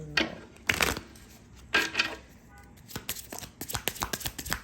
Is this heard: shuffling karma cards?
yes